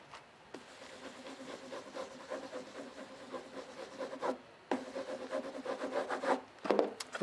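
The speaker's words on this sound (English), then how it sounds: "I'm doing the last stage, which is embossing the names of the craftsmen." Steady scraping and rubbing as names of craftsmen are embossed by hand into a freshly finished woodblock print, a close, continuous rasping texture with brief pauses and louder strokes near the end.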